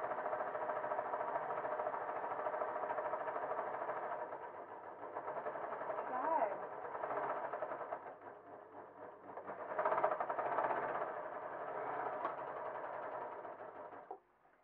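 A serger runs continuously, sewing sleeves into a stretch jersey cotton dress, producing a fast, even mechanical hum that swells and dips slightly in speed and stops sharply at the end.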